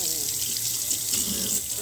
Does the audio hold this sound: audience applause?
no